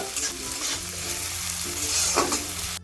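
Onions with salt frying in a pan, a steady close sizzle under continuous stirring, with scraping strokes of a spatula against the pan and no voices.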